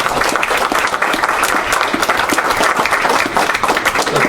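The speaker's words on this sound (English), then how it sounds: "Let's give them all a round of applause." Round of applause at a Macon County Board of Commissioners meeting, loud, dense and continuous clapping from many hands filling the whole span without pause.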